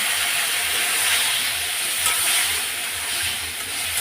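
Soybean and potato curry masala frying in a pan with a little water, giving a steady close hiss and sizzle with faint stirring, no voices.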